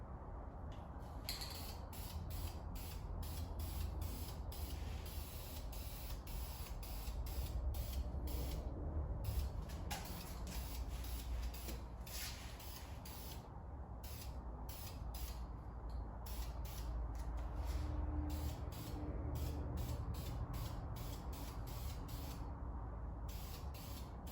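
A spray gun lays a first coat of paint on a 1957 Dodge Power Wagon part, a steady close hiss that runs for a long stretch with brief pauses and faint mechanical creaks in the background.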